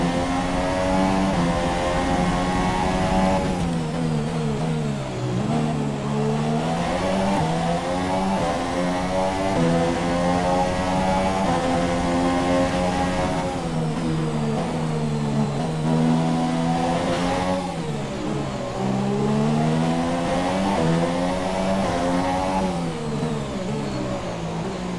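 A Formula 1 car screams through the Monaco street circuit in the F1 2017 game, its high-pitched engine rising and falling as it accelerates and shifts gears through corners in a continuous loud run.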